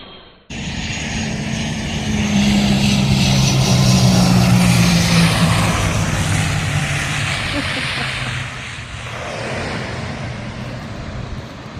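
Propeller airplane landing at an airfield, its engine drone loud and steady from the first second and swelling midway before easing off, with people talking nearby over the noise.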